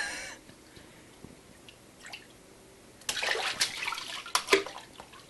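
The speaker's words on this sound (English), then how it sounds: "Oh, that's a lot of splashing." A child splashes water in a kitchen sink: a quiet stretch of drips and small movements, then several loud, close bursts of splashing.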